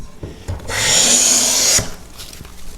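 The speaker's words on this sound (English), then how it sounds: "You're planing away and planing away" Hand plane shaving wood at a workbench: a single sustained rasping stroke of about one second, close and fairly loud, with quiet room sound before and after.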